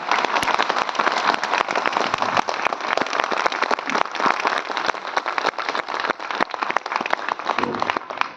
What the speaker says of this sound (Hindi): आप सब एक बार पुनः खड़े होकर उनका जोरदार तालियों के साथ स्वागत कर दें।